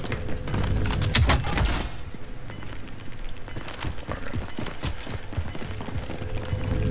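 Uzi submachine gun fire in Call of Duty: Warzone: rapid, close, punchy bursts dense at the start, then scattered sharper shots continuing over steady in-game background noise.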